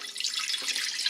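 Quart of water poured from a container into a mason jar for a mushroom chai tea blend, a steady close splashing stream running the whole moment with no talk over it.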